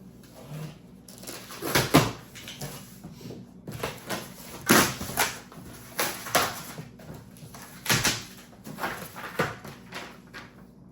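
Cardboard box of a Wen air filtration system being opened in a garage: scattered thumps, cardboard flaps and rustling handling knocks, close and fairly loud with no talk.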